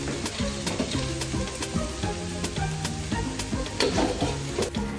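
Food sizzles steadily in a hot pan during Sri Lankan home cooking, a constant crackling fry with bright spitting pops and occasional utensil knocks.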